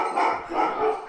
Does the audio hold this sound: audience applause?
no